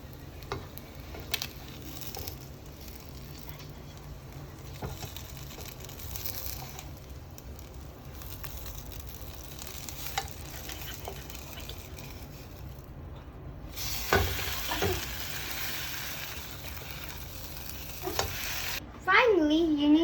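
Okonomiyaki frying on a hot pan with a soft continuous sizzle, scattered scraping and stirring noises, and a louder burst of sizzling and handling near the end as it is flipped.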